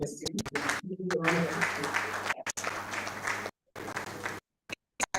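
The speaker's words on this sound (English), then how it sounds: "Please a round of applause." Applause from a crowd at a public lecture fills most of the clip, with voices mixed in, then breaks off into brief bursts and silence near the end.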